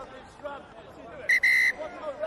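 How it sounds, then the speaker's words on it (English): A rugby referee's whistle at an Aberavon v Swansea Indigo Premiership match gives two sharp, shrill blasts in quick succession over a steady murmur of crowd chatter. "Phillips blows his whistle again"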